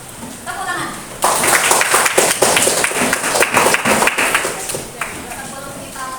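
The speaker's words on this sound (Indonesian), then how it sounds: "Tepuk tangan." A classroom of students claps together in a burst of applause, loud and dense for several seconds before tapering off, with a teacher's voice speaking before it begins.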